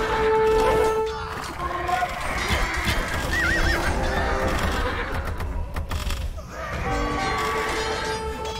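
Horses whinny loudly and repeatedly amid hoof clatter and battle din in a medieval strategy video game's Honfoglalás battle, with shrill neighs rising over a dense, steady mix.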